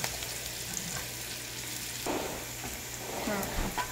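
Ingredients for a mung bean dish (ginisang balatong) sautéing in a pan, a steady close sizzle and crackle with occasional stirring scrapes.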